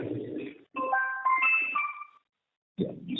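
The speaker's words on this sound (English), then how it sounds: "Sorry about the phone call." A phone rings with a short melodic electronic tone during a business call, sounding briefly in the middle between stretches of muffled line noise, with a gap of silence after it.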